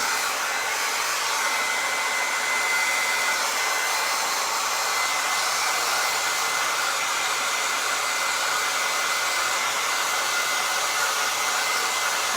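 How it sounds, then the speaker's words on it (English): A hair dryer blows steadily and loudly on resin art for a glass and resin piece, a constant close airy roar that never changes pitch or level. "I'm gonna just grab my blow dryer and blow dry this for 30 seconds so we can keep moving."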